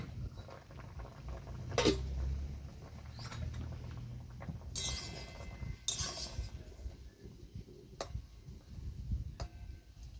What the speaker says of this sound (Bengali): এখন আমি চাপাটা খুলে দেখে নেব এঁচোড়টা সিদ্ধ হয়েছে কিনা।